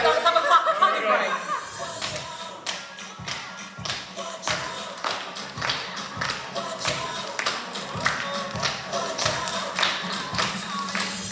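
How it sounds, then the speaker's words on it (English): An audience at a Day Out With Thomas event at the Buckinghamshire Railway Centre claps together in a steady, rhythmic beat of sharp claps, with a voice speaking and some laughter mixed in. "let's have a clapping break"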